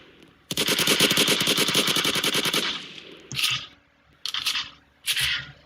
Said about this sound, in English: He just got shot.